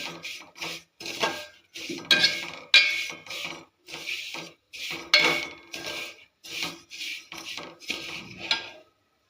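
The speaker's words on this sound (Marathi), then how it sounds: "मी शुद्ध घीमध्ये आपल्या शेवया हे व्यवस्थित अशा भाजून घेत आहे" Vermicelli roasting in pure ghee in a pan is stirred with a utensil, producing repeated close scraping and clinking strokes in short bursts against the pan, with brief pauses between them.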